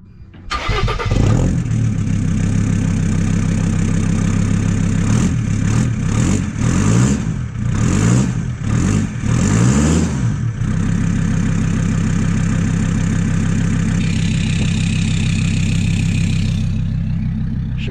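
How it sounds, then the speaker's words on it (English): A diesel snow cone van with a glass-pack exhaust cranks and catches, then settles into a loud, throaty rumbling idle with a deep exhaust note and a few brief revs. "Might be a little throaty for a snow cone truck, but I think it sounds pretty cool."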